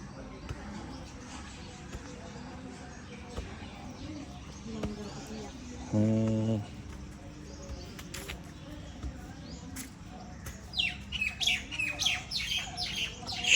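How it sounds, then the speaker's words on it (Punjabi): Birds chirp in a forest around the Dhakki Sahib gurdwara in Punjab, with a quick run of bright tweets near the end over faint background talk and a short low tone. "ਆਵਾਜ਼ਾਂ ਚਿੜੀਆਂ ਦੀਆਂ ਪੰਛੀਆਂ ਦੀਆਂ"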